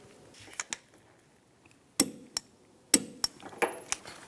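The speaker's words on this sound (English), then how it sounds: "Now tighten this nut down. And we're going to torque this nut to 52 foot-pounds." Sharp metallic clicks and taps while a nut is torqued to 52 foot-pounds with a torque wrench on a vehicle suspension job, scattered single hits and short clusters, close up and otherwise quiet.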